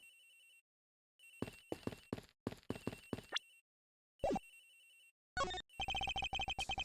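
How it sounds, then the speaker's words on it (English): A telephone rings in a Miles Edgeworth detective video game set aboard an airplane, electronic ringtone bursts repeating in quick clusters over a faint steady game tone, no talking. "It's ringing from somewhere, sir."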